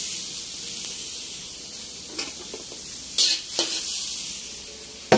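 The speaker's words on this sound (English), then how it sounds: "The butter is burning already." Butter sizzling and starting to burn in a too-hot pan while cooking shrimp teriyaki, a steady faint hiss with a few sharper spitting bursts and brief utensil scrapes, no voices.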